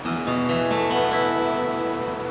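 A bright, shimmering acoustic guitar strum in DADGAD tuning with a partial capo rings out with a few quick restrikes, open strings sustaining richly, no voices.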